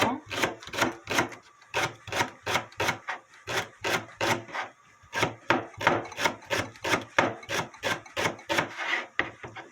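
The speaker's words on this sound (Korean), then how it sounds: "제가 이제 파를 좀 이렇게 썰어 놓을게요" A knife chops green onions on a wooden board in a steady, brisk rhythm of close, crisp thuds that pause briefly once before the cutting resumes.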